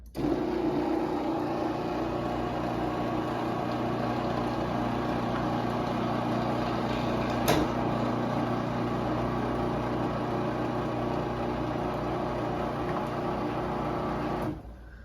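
A Stanley ST400 half-horsepower garage door opener runs slowly along its rail, giving a steady, even motor hum and drone for about fourteen seconds with a brief rattle partway through, then cutting off.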